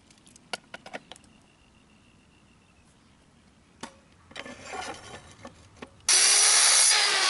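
A metal bracket piece for an adjustable lumber and metal racking system is cut to a 2-degree taper. Scattered clicks and handling scrapes come first, then a harsher burst of cutting noise, and finally a loud, steady power-tool roar to the end.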